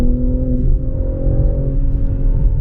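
BMW M3 Competition cruising on a back road at about 50 mph, its engine a steady close drone with a low rumble and a faint rising whir throughout, no voices.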